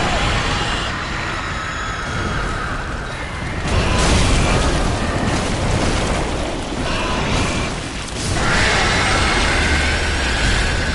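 Fire bomb explosions bursting in Dark Souls III, a few broad booming surges at about 4 and 8 seconds over a dense, continuous roar of game noise.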